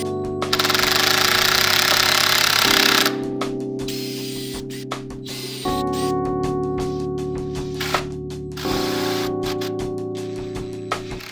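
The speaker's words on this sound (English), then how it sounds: "made some pocket holes with the pocket hole jig" A drill runs loud and close through a pocket hole jig into wood, with sustained whirring that changes pitch in several stages and is broken by clicks and knocks. No one speaks.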